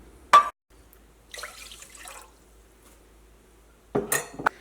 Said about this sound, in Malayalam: ഇനി ഒരു 3/4 കപ്പ് കൂടി ചേർക്കാം